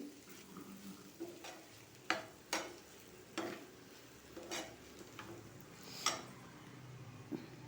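Ivy gourd (tindora) frying in a pan: a low sizzle beneath repeated sharp scraping and clinking as a spatula stirs, irregular strokes every second or so, close and fairly quiet.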